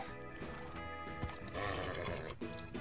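A horse neighing in the video game Minecraft, a quiet, shaky whinny with a couple of snorting bursts and clip-clop steps, with a faint voice underneath.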